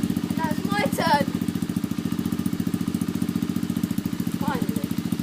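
A four-stroke dirt bike engine runs steadily at a low, pulsing idle nearby, with brief voices heard over the rumble.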